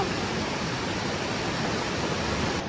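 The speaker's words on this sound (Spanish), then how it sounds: "Nunca habíamos vivido la crecida de un río así." A flooded river rushes past in flood, a dense, continuous roar of turbulent water that stays loud and even throughout with no talk over it.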